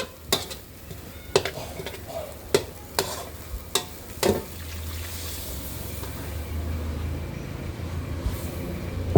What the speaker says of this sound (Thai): อันนี้ผัดให้แห้ง มันก็หอมแล้วค่ะ